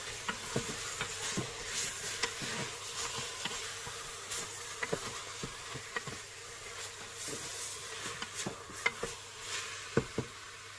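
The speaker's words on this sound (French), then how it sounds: "Ensuite, je vais mélanger un petit peu." Meat and onion are stirred in a pan, giving a faint, soft sizzle broken by scattered light clicks and scrapes from the spoon.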